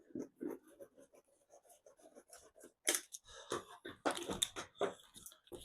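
Van sound deadening sheet being cut by hand, sharp scraping and slicing bursts that grow louder and denser toward the end after a quieter stretch of soft rustling.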